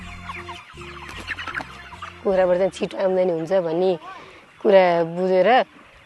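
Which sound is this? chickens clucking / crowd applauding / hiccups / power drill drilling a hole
chickens clucking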